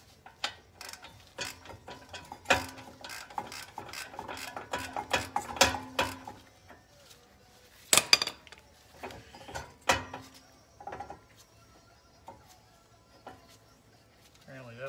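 A loose brake caliper bracket rattling on the front passenger side of a Pontiac G8 GT during a caliper swap, with quick bursts of metallic clicking and clattering, then a louder clank and sparser taps.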